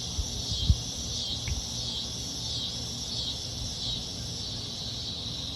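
A steady high insect buzz pulsing in slow waves, like cicadas droning in the distance, with a few soft knocks nearby at the start.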